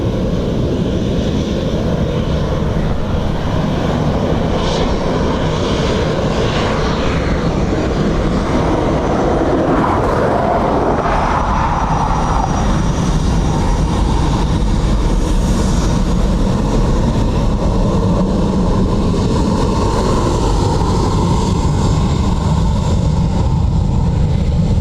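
An airliner lands on runway 28 left at Dublin Airport, a loud continuous rumble and roar of engines and rolling noise sustained throughout.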